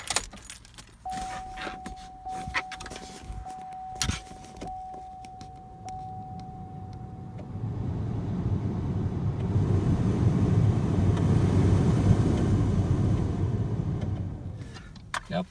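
Heater blower fan in a 2008 Chevrolet Colorado, starting after some clicks and a faint tone, then a steady, rising whoosh of air through the cabin that fades at the end; quiet overall.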